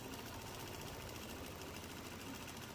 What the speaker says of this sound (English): We're going to quilt a couple rows in this position so that you can just see it stitch out.